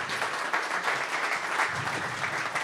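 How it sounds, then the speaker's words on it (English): An audience at a keynote talk claps together in a short, even round of applause that stays steady and fairly close throughout, with no talking over it. "Round of applause."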